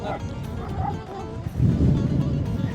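Dogs bark in short bursts against a busy outdoor background, with people talking over them.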